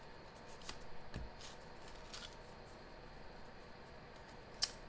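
Soft, papery riffling of a deck of tarot cards being shuffled, a few quick swishes spread across the stretch, quiet and close, with a sharp tap near the end.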